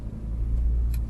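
A car driving home hums low and steady from inside the cabin, a brief continuous road rumble with no talk.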